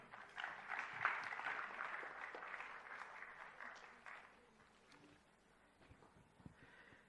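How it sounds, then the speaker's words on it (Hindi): Applause at a literary festival session on foreign policy greets the speakers, a faint, distant wash of clapping from a hall audience that swells early and fades after about four seconds. "आइए अब हम इस सत्र के सभी वक्ताओं का तालियों की गड़गड़ाहट से स्वागत करें।"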